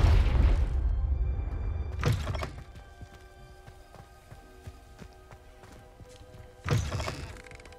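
Booming spell blast from Confringo in the Hogwarts Legacy video game, one heavy thunk opening the clip, a second near two seconds and a third near the end, each followed by a quiet, low rumbling tail.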